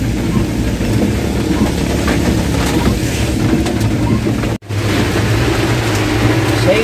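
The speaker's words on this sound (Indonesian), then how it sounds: "Hujannya besar teman-teman." Heavy rain drums on a moving vehicle carrying water gallons, a loud dense wash of rain mixed with engine rumble, continuous apart from a brief cut.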